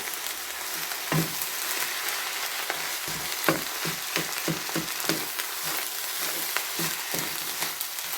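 Egg fried rice stir-fried in a pan, with a steady hiss of sizzling under repeated sharp scrapes and clacks of the spatula at an uneven stirring rhythm, close and fairly loud.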